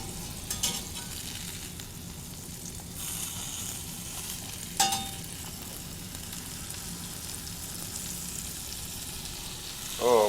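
Grated Gruyere or Emmentaler cheese sizzles and fries steadily in a Le Creuset pan, a close, continuous crackling hiss with a few sharper pops and a brief scrape near the end.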